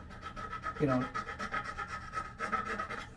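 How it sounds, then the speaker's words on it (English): A hand file rasps against the top edge of a tuner hole in a lacquered vintage guitar headstock, giving a series of short, close scraping strokes in a steady back-and-forth rhythm. "Try to just kind of, hit the top edge and not hit the bottom edge with the file"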